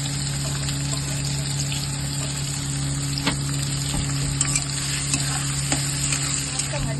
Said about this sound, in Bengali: পেঁয়াজটা দিয়ে দেবো তেলের মধ্যে।